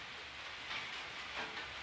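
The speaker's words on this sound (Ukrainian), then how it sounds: "І дощик такий гарний, аж вода он пішла кругом." Rain falls outdoors, a steady soft hiss of drops on the ground and surfaces with water running around. It stays fairly quiet and even throughout, with no one talking.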